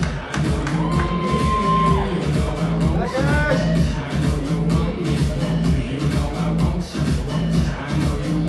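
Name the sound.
audience applause for the stage manager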